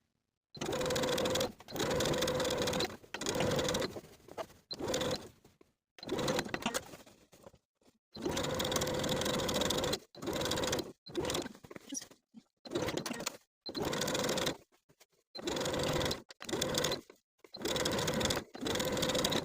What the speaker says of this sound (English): understitch as far as you can, backstitch to secure, and start a new set of stitches on the other side of the corner